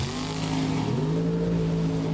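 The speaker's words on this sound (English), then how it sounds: "Both cars away on the green." Top Fuel dragsters launch off the line together at a race in Seattle, a heavy, sustained engine roar that steps up in pitch partway through as the cars pull away, loud and without talk.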